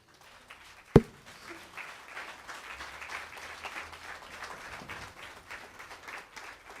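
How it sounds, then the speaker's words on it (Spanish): A church congregation applauds steadily for several seconds, a dense patter of many hands clapping at moderate volume, with a sharp knock near the start. "Dan un aplauso al Señor."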